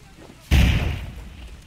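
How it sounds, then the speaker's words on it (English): A frag grenade goes off in a first-person military shooter, one sudden loud boom that rumbles and fades over about a second, with brief voice chatter around it. "I'm gonna frag him. Frag out."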